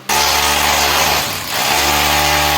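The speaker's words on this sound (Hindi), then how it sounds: "अंदर ड्रिलिंग चल रही है।" A power drill whines loudly and steadily inside a house under construction, easing off briefly in the middle before resuming at full strength, with no talk.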